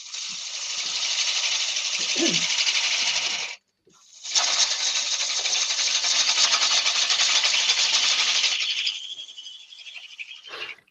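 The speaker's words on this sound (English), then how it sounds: "I quite possibly will use a scraper just around this section, because it's not playing ball with the gouge" A scraper cutting a yew wood platter spinning on a lathe, a loud, hissing, rasping scrape in two long passes broken by a brief pause, fading to lighter contact at the end.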